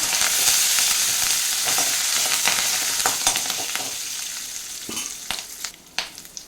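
Slit green chilies and curry leaves crackle loudly in hot oil in a pan, the sizzle easing gradually as a spoon stirs with sharp scrapes and clicks near the end.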